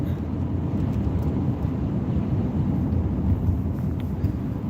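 Steady wind rumbling and buffeting outdoors, a continuous low roar with no voices.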